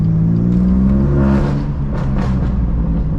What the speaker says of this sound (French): J'accélère à peine, ça glisse.